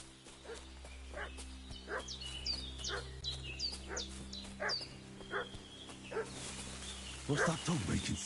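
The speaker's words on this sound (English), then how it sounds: "What's that dog making such a fuss about?" Dog barking somewhere in a Kingdom Come: Deliverance 2 medieval village, a run of short, moderately distant yaps repeating every second or so over a steady low hum, with birds chirping around it.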